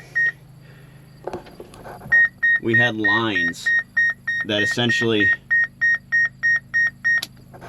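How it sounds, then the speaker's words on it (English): A round baler monitor beeps in a steady series of short, evenly spaced electronic tones, close and loud, running under a man's speech. "excuse the beeping"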